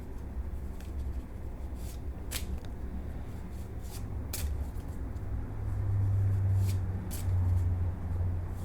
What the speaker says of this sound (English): let's do a little bit more shuffling before I get into this